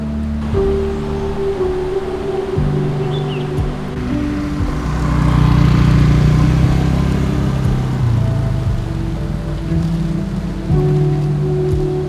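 Steady rain falls outdoors, a dense even hiss of drops on surfaces that swells slightly in the middle, with a low hum underneath and no voices.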